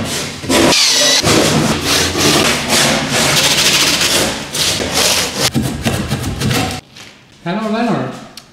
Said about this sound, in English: got a bigger saw